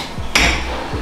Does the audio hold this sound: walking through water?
no